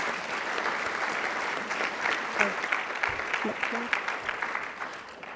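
Steady applause from an audience, a dense patter of clapping that holds for several seconds with a few voices murmuring underneath.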